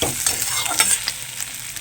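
Vegetables for a spicy pasta are stir-fried in a pan, making a bright, close sizzle broken by the scrape and rustle of stirring strokes.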